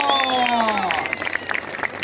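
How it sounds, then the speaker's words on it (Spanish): Audience applause at a gathering honoring racing drivers: a dense, steady patter of clapping for about two seconds, with a raised voice or cheer sweeping over it. "¡Aplausos!"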